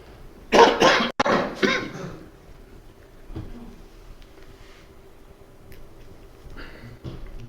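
A burst of harsh coughing near the start, a couple of loud hacks in quick succession, followed by quieter room noise and faint shuffling.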